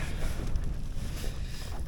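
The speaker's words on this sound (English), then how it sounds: "It's got quite windy." Steady, blustery wind at a freezing wild campsite buffets the microphone in a continuous low roar, with no voices.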